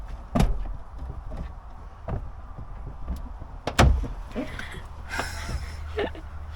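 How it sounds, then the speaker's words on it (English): A door on a portable battery-powered fridge is pushed repeatedly without closing, a series of sharp knocks and thuds spread across several seconds with some plastic rattling and shuffling, close and moderately loud with no voices. "Let's see if the door closes."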